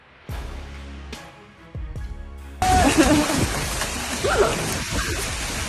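Heavy rain from a thunderstorm pours down loudly after a few sharp impacts at the start, a steady hiss with a person's voice briefly audible underneath.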